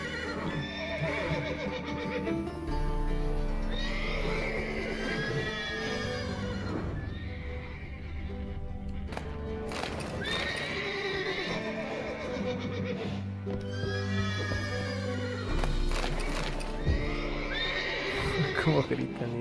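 Several horses neigh and whinny repeatedly in a stable in The Witcher 3, shrill cries rising and falling over hoof clops and a low rumble, while voices talk in between.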